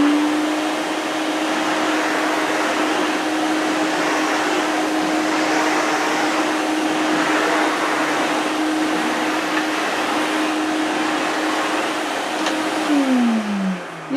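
A 1980s Electrolux 355 cylinder vacuum cleaner running with its regular floor nozzle, a steady loud whirring motor drone that holds constant before winding down at the end, with no talking.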